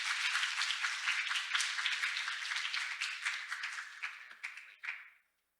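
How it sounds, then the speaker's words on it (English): An audience at an international symposium on traditional medicine applauds with dense, steady clapping that thins out and stops abruptly after a few seconds. "Ladies and gentlemen, please make another big round of applause."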